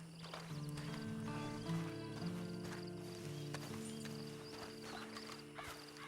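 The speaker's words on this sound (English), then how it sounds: "Then you better get on this horse." Horse hooves clip-clop steadily beneath layered game music and ambience in Red Dead Redemption 2, with a brief whinny; no one speaks.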